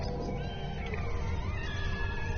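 A cat lets out a drawn-out, strained yowl, close and continuous, wavering in pitch for a couple of seconds over a coarse background.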